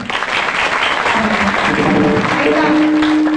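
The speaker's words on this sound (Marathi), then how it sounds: "आपण आपल्यासाठीच एकदा जोरदार टाळ्या वाजवायच्या" Loud, sustained applause from a crowd at a kirtan devotional gathering, dense clapping filling the whole stretch without pause.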